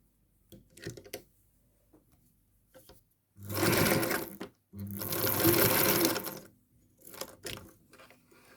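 A Singer Featherweight sewing machine stitching a dress runs in two loud, close bursts of rapid, steady whirring, separated by short pauses and surrounded by quieter handling clicks and taps.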